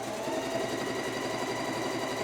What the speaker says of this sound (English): I'm going to stitch all the way around, and I'm going to stop here.